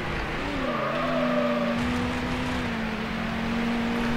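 Car drifting in the racing game Need for Speed Hot Pursuit 2: a steady engine drone with a sustained tyre squeal tone sliding slightly in pitch, constant and fairly loud for the whole stretch.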